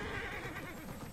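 A horse in the Immortals Fenyx Rising video game whinnies with a brief, fairly loud neigh over steady game ambience and faint hoof clops, lasting about a second with no talk.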